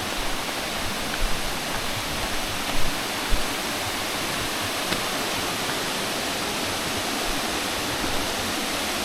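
Stream and waterfall at Suối Sinh Hồ, a continuous broad rushing roar of falling and flowing water, steady and close with no pauses and only a few faint bumps.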